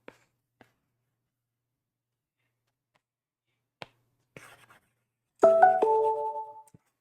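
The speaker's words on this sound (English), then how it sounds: "Sorry about the notification." A phone notification chime rings out late in the clip as a short, clear tonal jingle of a few notes. Before it, a quiet room holds only scattered faint clicks and taps, like a pen writing.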